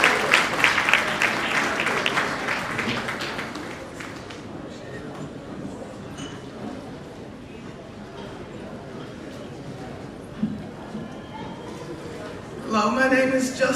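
Audience applause at a live show honoring a judge, strongest at the start and fading within a few seconds into crowd murmur and talk, with a brief renewed burst near the end.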